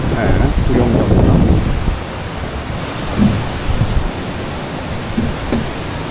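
Guryong waterfall on Jirisan roars as a steady broadband rush of falling water, loud and continuous throughout with slight swells, and voices briefly heard nearby over it.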